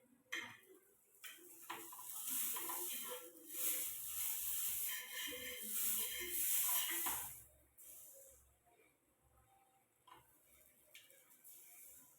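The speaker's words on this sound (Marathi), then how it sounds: "पाव आता बटर टाकून छानपैकी तव्यामध्ये परतून घेते" Pav bread rolls sizzle in butter on a hot griddle for pav bhaji, the hiss swelling loud for a few seconds with faint clinks and scrapes, then quieting.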